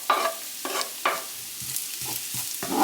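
Garlic sizzles in a frying pan for a corned beef and rice dish, with a few soft bursts of stirring and scraping at a steady pace, fairly quiet and close.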